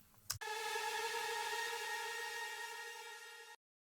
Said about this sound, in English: you can create it very easily by taking a pad and distorting it with a reverb before the saturation.